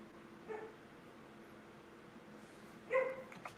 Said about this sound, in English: dogs are barking because other dogs are barking.